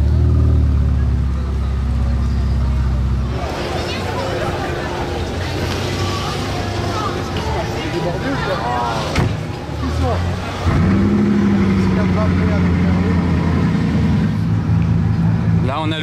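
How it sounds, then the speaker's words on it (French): A Bugatti Chiron Sport fires up with a deep, loud rumble that settles into a steady idle, rising again near the end, while people talk over it close by. "Là on a le démarrage de la Chiron Sport."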